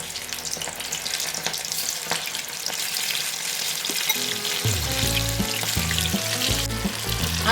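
Prawn 65 frying in cold-pressed groundnut oil over a low flame gives a dense, steady sizzle and crackle throughout, with stepped musical tones joining partway through.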